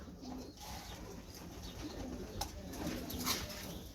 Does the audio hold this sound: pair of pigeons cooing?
yes